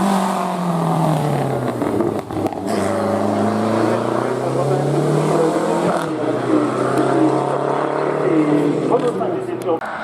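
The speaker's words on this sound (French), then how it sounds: "Qui est bien la deuxième voiture à 4 roues motrices à se lancer" A four-wheel-drive race car at a hill climb near Turckheim revs hard as it launches, engine note rising and falling through gear changes, loud and close, with a commentator talking over it.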